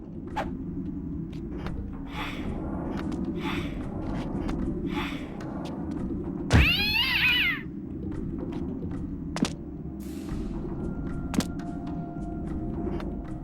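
A cat meows once in the video game Legacy of Kain: Blood Omen 2, a sharp, short cry above a low ambient rumble with scattered thuds and faint game sounds.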